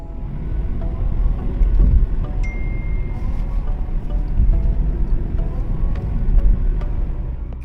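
Steady low rumble of a car driving along a quiet single-lane road in Australia at night, continuous road and wind noise with no talking.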